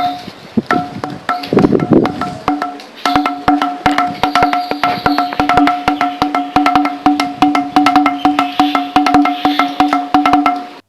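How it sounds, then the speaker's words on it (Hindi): Rapid, repeated taps on a stone pillar produce resonant, drum-like tones, struck in quick rhythmic bursts that ring clearly and close. "अगर आप इसे टैप करते हैं तो आपको इन ड्रम की आवाज सुनाई देगी।"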